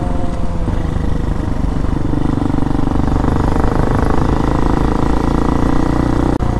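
A motorcycle engine drones loudly and steadily with exhaust roar while riding, a Hawk DLX, Raven 250 or Honda CRF250, holding a constant close rumble throughout with no talk.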